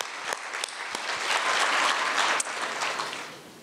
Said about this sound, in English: So another round of applause for the Windsor Family Health Team Oral Healthcare Program